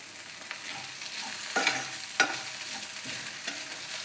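Curry leaves dropped into softened, cooked-down tomatoes in a frying pan set off a soft steady sizzle, with a few sharper spoon scrapes and crackles standing out, fairly quiet and close.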